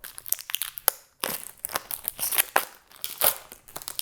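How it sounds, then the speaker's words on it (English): Protective plastic wrap peeled off a new Fender Player Plus Stratocaster guitar, giving loud close crinkling and tearing bursts in irregular rapid bunches with a brief pause near the middle. "Should we remove the plastic?"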